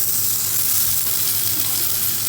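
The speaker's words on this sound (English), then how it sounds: "You can see the onions are golden brown. I'm going to add the tomatoes in" Tomatoes going into golden-brown onions in a hot pan for an egg curry, giving a loud, steady close-up sizzle and hiss with a faint stirring texture.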